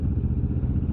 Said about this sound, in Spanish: ahí acaba de pasar una XADV